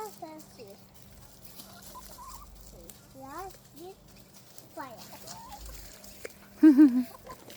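Farm chickens being fed in the afternoon, with scattered soft clucks and calls close by, a few sharper squawks near the end, over a steady low background hum.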